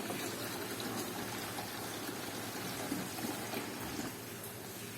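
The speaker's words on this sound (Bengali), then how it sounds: "এখানে এটা ভর্তি হয়ে আসছে, এটা হাফ মতন জল চেঞ্জ করে দিচ্ছি" Fish tank being filled with fresh water during a half water change, a steady close gushing pour that continues unbroken without talk.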